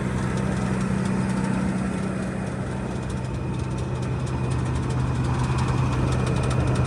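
A Massey Harris 92 combine's engine runs steadily close by, a loud even mechanical drone with a low throb and rattly vibration, unbroken by speech.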